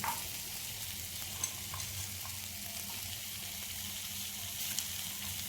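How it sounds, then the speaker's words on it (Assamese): Mixed vegetables for a paneer dish stir-fry in a pan with a soft, continuous sizzle, faint occasional clicks of a spatula stirring underneath. "এই ভাজিখিনি মই এতিয়া এনেকৈ ভাজিলোঁ, অলপ সময় ভাজিলোঁ"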